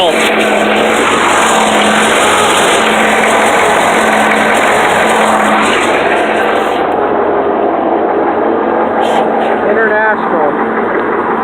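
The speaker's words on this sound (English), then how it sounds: "The engine sounds really good because it's been rebuilt." The rebuilt engine of a 1974 International trackloader runs on a cold start with a loud, continuous rumble and a steady drone, and a high hiss drops away partway through.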